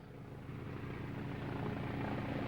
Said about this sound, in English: For the men on their lonely headland, the helicopter is always a welcome sight.